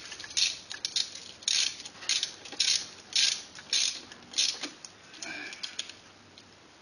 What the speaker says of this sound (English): Now you tighten these down in intervals all around, slowly getting tighter and tighter to let things compress.